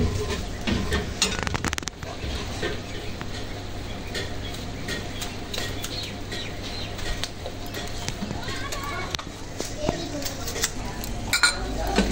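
Mutton frying in a karahi as tomatoes go in, with steady pan sizzle, metal spoon clinks and pot scrapes throughout, close and fairly loud.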